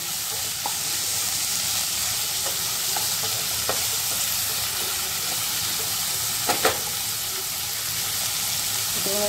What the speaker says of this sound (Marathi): आता या पूर्ण भाज्या ज्या आपण टाकल्या त्याला मोठ्या गॅसवरती थोडंसं परतून घ्यायचं